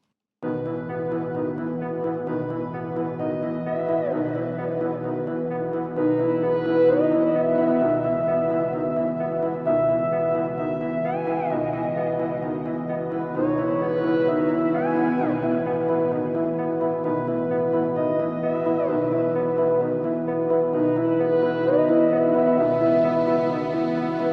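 A mellow, ambient hip-hop beat plays steadily, with soft sustained pads and a gentle melody drifting over a low, even groove.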